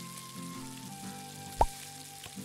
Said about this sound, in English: There's a burger frying on the stove.